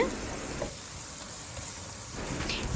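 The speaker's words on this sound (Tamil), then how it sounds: "இது ஒரு பொன்னிறம் ஆகிற வரைக்கும் வதக்கி விட்டுருங்க." Sliced onions sauté in a hot pan for chicken sambal, giving a steady close sizzle and hiss with a brief stir near the end, and no talking.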